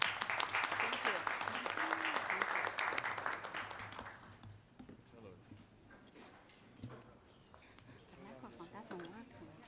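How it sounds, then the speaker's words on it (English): Conference audience at an Internet Governance Forum session applauding the panel, a dense round of clapping for about four seconds that then thins into scattered claps and murmuring voices. "join me to applaud for our excellent panel as well"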